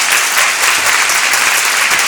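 Audience at a Rotary district conference claps after an address, a loud, dense and continuous wash of applause from a large crowd with no voices on top.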